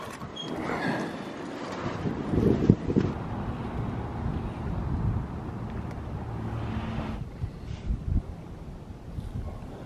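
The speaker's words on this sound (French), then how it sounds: "Il y a un vent glacial." Icy wind buffeting the microphone outdoors at Amanohashidate, Japan, a steady rumbling roar with gusts that swell and fade over several seconds, heard alone without speech.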